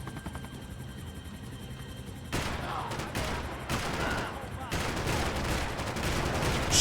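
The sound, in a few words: gunfire in the video game Max Payne 3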